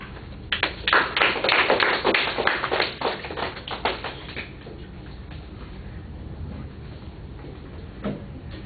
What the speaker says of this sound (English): That applause was so tepid.